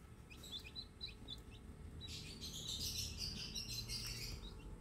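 A newly hatching chick chirps from inside a cracked egg in an incubator, giving a series of short, high peeps that come close and clear over a steady low incubator hum, growing busier toward the end.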